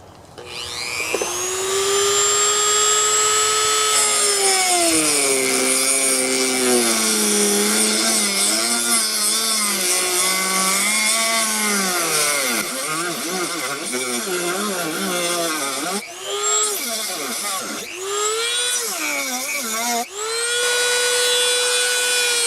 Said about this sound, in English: going to try to cut a slit just on this forward part of it